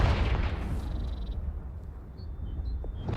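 The Confringo spell goes off in the video game Hogwarts Legacy as a loud, booming blast that rumbles deep and heavy, then fades into a low, noisy tail with faint game tones above.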